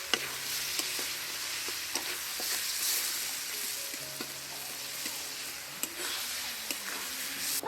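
Potatoes, already fried, sizzle and are stirred with spices in a pan while cooking aloo dum, a steady close frying hiss broken by frequent scraping and clacking stirs, with no talking.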